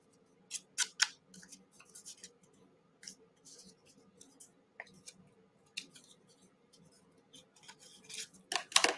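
Scissors snipping and trimming paper while distressing pieces for a Dollar Tree junk journal folio, with a steady run of close, crisp blade clicks and cuts in irregular bursts, quiet between snips.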